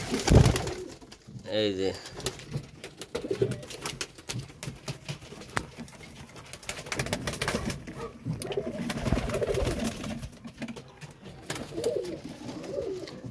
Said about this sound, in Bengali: এটা হচ্ছে নর আর এটার হচ্ছে মাদি কবুতর।